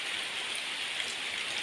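Rain falls steadily in a rural hillside area near a waterfall, a soft, even hiss of drops on surfaces with no distinct individual patters and no voices.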